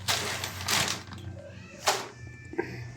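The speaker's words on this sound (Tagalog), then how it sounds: "Gutom yung mga pusa." Several hungry cats meow and caterwaul while they eat, with a couple of loud drawn-out cries and shorter mews in between, close by, with some faint background noise.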